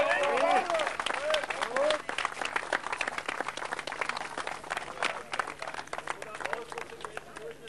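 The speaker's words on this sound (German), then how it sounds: "Der Applaus für Uli Schnieder." Applause for a jockey after a horse race, the Bruno-Cassirer-Rennen, a crowd clapping steadily through the whole stretch, with voices and an announcer's speech layered over it and shouts early on.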